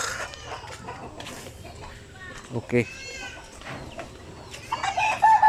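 Black Australorp and Basilan native cross chickens cluck around a free-range area, with a rooster crowing nearby and someone speaking briefly over the flock.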